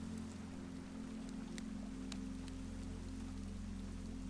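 Steady rain falls on the shutters of a medieval castle in winter, a constant soft patter with scattered sharper drops over a low background hum, no voices.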